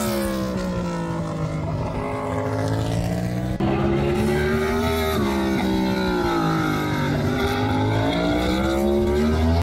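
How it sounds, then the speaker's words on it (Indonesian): A Yamaha MotoGP race motorcycle engine roars loudly and continuously as it exits a corner, its pitch rising and dipping with a brief break in the drone where electronics cut the power. "motor Yamaha pada saat keluar tikungan kedua terdengar sekali tenaga mesinnya terpotong nih oleh elektronik"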